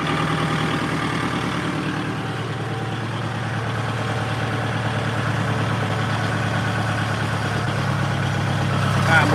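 An engine idles steadily without revving, a constant close rumble with a low throb, and voices can be heard faintly beneath it.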